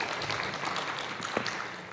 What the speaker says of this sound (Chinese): 请各位掌声。